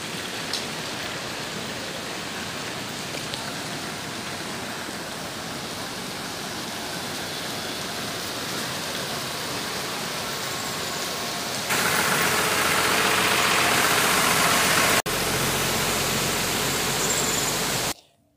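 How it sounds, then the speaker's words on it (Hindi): Rainwater rushes over a road in Sikkim after heavy rain, a steady broadband roar running throughout, growing louder and brighter toward the end before cutting off. "ये बैकग्राउंड में जो शोर चल रहा है, ये बैकग्राउंड का शोर है पानी का"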